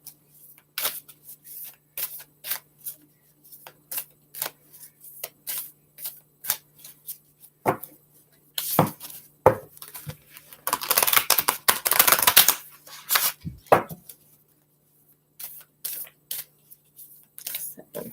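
Oracle cards shuffled by hand in bursts of soft riffling and slapping, with a long, denser flurry near the middle, heard close and alone between pauses.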